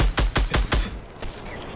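A rapid burst of four or five close gunshots from the Fortnite video game fires in quick rhythm, then trails off into fainter scattered reports.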